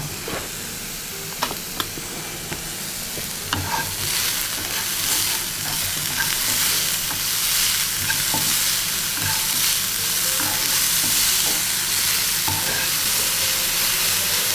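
Onions fry and crackle steadily in a pan for fish curry, a dense continuous sizzle broken by the occasional scrape and clatter of a stirring spoon, close and fairly loud with no talking.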